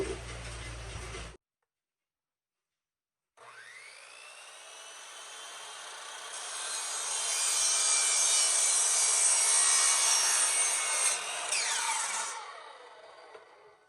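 A brief low hum, a pause of silence, then a chop saw whines through PVC pipe, its pitch rising and rasping for several seconds before winding down.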